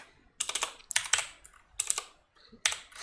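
Bursts of quick keystrokes clatter on a computer keyboard, several short typing runs separated by brief pauses, close and fairly quiet.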